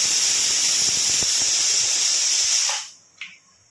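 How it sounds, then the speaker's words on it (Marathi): A pressure cooker on a home kitchen stove cooking rice lets out a long, loud, steady steam whistle that hisses close by, then cuts off with a short sputter of escaping steam. "कुकरच्या शिट्ट्या इतक्या जोरजोरात होत आहे"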